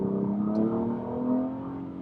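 A 2015 Nissan Maxima engine accelerates hard on a test drive, a smooth rising drone heard from inside the car with no talking.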